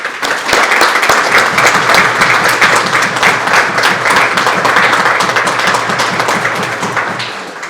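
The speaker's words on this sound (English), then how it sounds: "we should give her a round of applause" An audience applauds a Volunteer of the Year award presentation at a community event, with steady, loud, dense clapping that holds for several seconds and then tapers slightly at the end.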